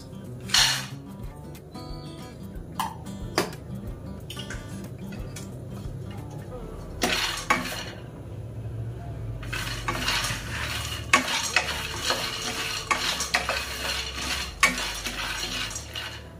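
Peanuts roast in a hot kadai over medium flame, a spoon scraping and stirring them with clinks against the metal and a rising sizzling rattle, interspersed with occasional talking.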